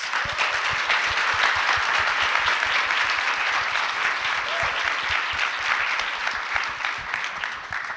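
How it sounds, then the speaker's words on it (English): Loud, sustained applause from a crowd, dense clapping that carries on for several seconds before starting to thin out. "Let's give them all a quick round of applause."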